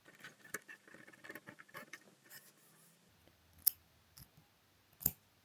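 Scissors snip off the yarn tails on a crocheted rose flower hair claw clip, with soft rustling handling at first, then two sharp isolated snips close up, no talking.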